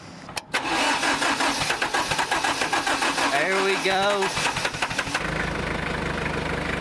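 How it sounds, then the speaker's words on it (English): Diesel tractor engine cranking with rapid rhythmic churning, then catching and settling into a loud idle; someone speaks briefly over it. "This tractor should hit, and then we should be good."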